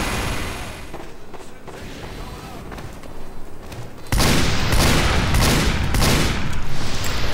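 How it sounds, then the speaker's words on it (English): In Team Fortress 2, a sudden burst of loud, sustained gunfire opens up at a spy halfway through and keeps rattling on, preceded by quieter game noise. "Couldn't help it, I had to shoot at that spy."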